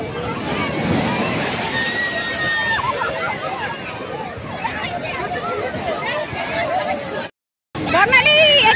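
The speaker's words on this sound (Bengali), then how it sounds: "জোয়ার জোয়ার।" Sea surf sloshes and washes in continuously as the tide rises on a beach, close and steady, with voices of people talking and calling over the water; a brief dropout near the end.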